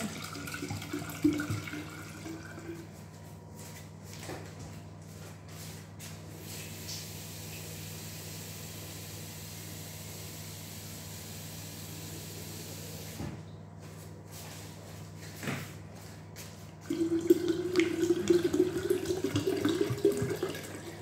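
Water running and pouring steadily for homemade kefir, a long quiet hiss that stops briefly and resumes louder with splashing near the end, no talk.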